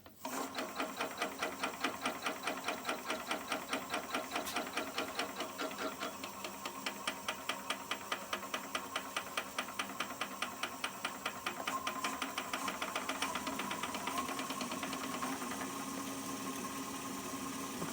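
A wood lathe spins a mimosa bowl blank at about 470 RPM, giving a steady, fast, rhythmic thumping whir with faint clicking that continues evenly throughout.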